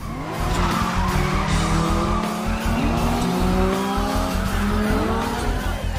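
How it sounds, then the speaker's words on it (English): A Dodge Stealth engine revs hard with a raspy, rising howl likened to a Nissan Skyline R34 GTR, several climbing pitch sweeps through gear changes, loud and close with steady road roar underneath. "Driving a Dodge Stealth that sounds like an R34 GTR"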